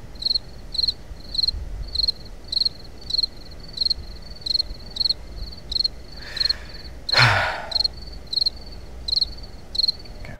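Crickets chirp in a steady, regular rhythm of short bursts, with a brief breathy whoosh partway through.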